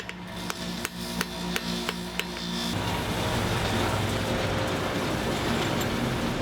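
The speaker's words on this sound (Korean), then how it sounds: "망치 소리도 이제는 제법 가볍고 경쾌하게 들립니다." A young blacksmith strikes hot metal at a forge hearth with a hammer, sharp ringing blows in a quick, even rhythm for a few seconds, close and loud, then giving way to a steady roaring rush like the forge fire.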